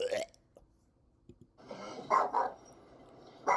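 A few short, sharp dog barks sound at moderate distance, scattered across the clip with quiet gaps between them.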